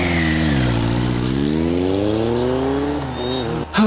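A motorcycle engine revs loudly and steadily, its pitch climbing as it pulls away, before a brief burst of higher revving at the end; no voices, only the engine.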